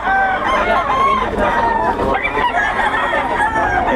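Many chickens and roosters at a gamefowl sale, with loud overlapping clucks, squawks and crowing close by in a continuous busy chorus, and faint talk in the background.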